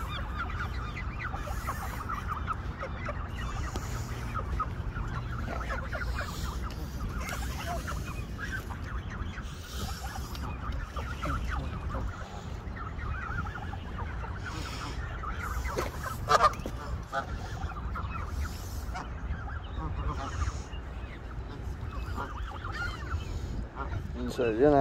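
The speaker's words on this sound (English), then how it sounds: "It's feeding some geese, though." Several geese honk repeatedly while being fed fries outdoors near Chicago, sharp honks scattered across the scene at close and middle distance over a steady low background hum.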